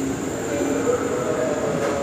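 An electric commuter train rumbles steadily past nearby at Manggarai station in Indonesia, a constant droning hum with a faint electric whine and no distinct clatter.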